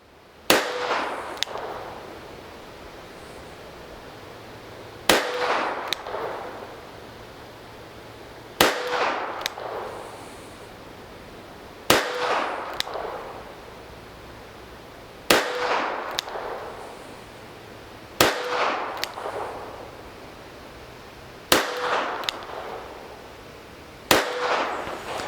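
Nine shots from an older Taurus Model 94 .22 revolver fired single action at a target seven yards away, each a sharp crack followed by a short echo, spaced about three seconds apart.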